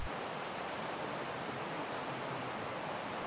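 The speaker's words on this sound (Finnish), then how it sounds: "Tällainen kauneuspato, pohjapato koski." River rapids pour over a low bottom dam at a rapids in Ii, Finland, a steady, dense roar of rushing water close by with no pauses and no voices.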